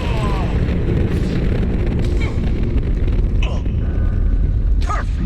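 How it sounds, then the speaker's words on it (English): Enemies blow up in heavy, booming blasts during Mass Effect 2 combat, several loud explosions layered over constant rumble, gunfire and clatter, with voices talking over the action. "That's like the same explosion effect they used for the Kane."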